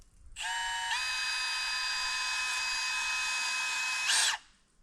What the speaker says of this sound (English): my drill is not liking life right now doing this